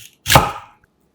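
A knife slices through peeled lotus root into 0.4 cm rounds, giving one crisp, close chopping stroke with a short fading tail and no talk.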